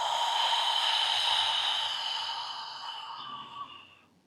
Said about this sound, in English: Deep breath into the belly, and then blow it out into your hand.